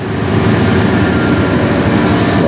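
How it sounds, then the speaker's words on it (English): A CN freight train beginning to move from a dead stop: loud, continuous broadband rumble of locomotive engines, steady and close, with no voices. "Alright, the train is starting to move"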